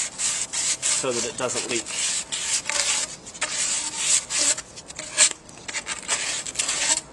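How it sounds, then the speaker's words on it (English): Sandpaper is rubbed over the ends of a PVC pipe in brisk, repeated back-and-forth strokes, close and fairly loud, while a voice speaks briefly. "on each end of the pipe, I'm going to sand it up real nice"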